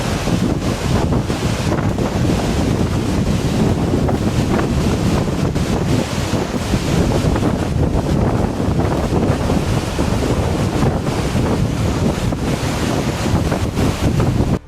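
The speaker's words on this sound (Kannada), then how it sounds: "ಪ್ರಸಿದ್ಧ ಹೆಬ್ಬೆ ಜಲಪಾತ ಇದೀಗ ಪುನರ್ವಸು ಮಳೆಯ ಅಬ್ಬರಕ್ಕೆ ಮೈದುಂಬಿ ಧುಮುಕುತ್ತಿದ್ದು" Hebbe waterfall near Kemmangundi, swollen by heavy monsoon rain, roars in full flow: a loud, dense, unbroken rush of falling water filling the whole stretch, with no voices.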